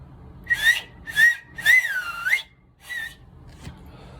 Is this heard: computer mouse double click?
no